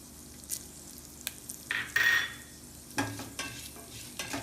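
A mustard-seed and fenugreek tempering with chopped dried red chilies crackles in hot oil, with soft scattered pops and spoon scrapes against the pan. It is fairly quiet and close, and nobody speaks.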